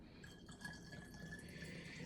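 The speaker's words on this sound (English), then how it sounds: "fill up the rest of the bottle all the way to the top with water" Water runs into a spray bottle already holding vitamin E oil for a homemade leave-in hair conditioner, a faint continuous trickling and gurgle, close and quiet, with no talking.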